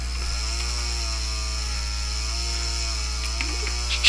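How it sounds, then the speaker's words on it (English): A chainsaw in the video game Doom drones steadily at an even idle for several seconds, loud and unbroken, with a brief surge near the end. "Chainsaw, yay"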